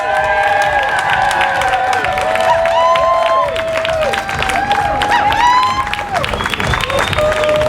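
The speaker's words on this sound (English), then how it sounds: "Please, a big round of applause." A crowd at an outdoor Dyke March stage event claps and cheers loudly for an award recipient coming on stage, with whoops and high shouted calls rising over continuous applause.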